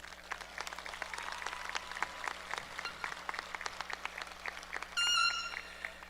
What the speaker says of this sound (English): Let's give you one more round of applause.